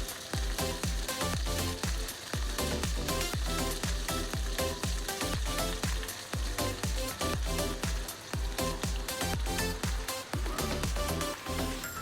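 Chicken wings frying in a pan with ginger, spring onion and garlic, a dense loud sizzle with rapid crackling pops throughout, no talking.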